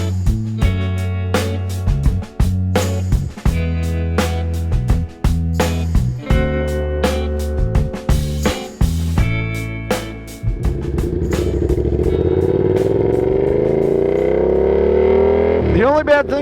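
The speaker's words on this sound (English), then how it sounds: "I'm on a really loud bike" Yamaha FZ-07 (MT-07) motorcycle being ridden on a loud bike, engine revving up and shifting through gears in repeated climbs, then holding a steady droning rumble with wind, loud and close throughout.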